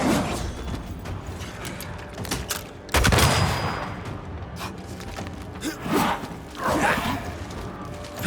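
Gunfire in the video game Banishers: Ghosts of New Eden, a few sharp shots and bursts spread among mechanical clanks and breathy gasps, fairly close and loud.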